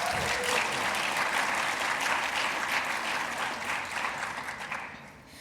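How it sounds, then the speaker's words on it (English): An audience at a Bitcoin conference in Africa gives a loud, sustained round of applause that fills the room throughout and tapers slightly toward the end. "So a round of applause for him and his team."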